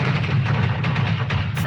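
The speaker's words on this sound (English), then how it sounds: "Explosion." A crude oil tanker explosion gives a continuous deep, rumbling roar with dull thuds throughout, loud and heavy with no break.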